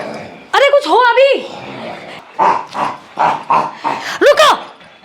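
A man imitates a dog with a voice, letting out close, loud barks and growling yelps in short bursts, with whining vocal tones between them.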